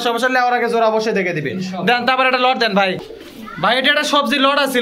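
Pigeons coo amid a busy pigeon market, their soft murmuring mostly buried beneath steady close-up talk from traders discussing birds and prices.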